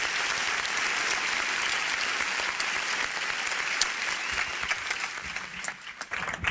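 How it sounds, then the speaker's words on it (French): A church audience gives sustained, loud applause as pastor Jean-Louis Gaillard is introduced at a special evening gathering. The clapping is dense and steady and fades slightly near the end. "On l'acclame bien fort."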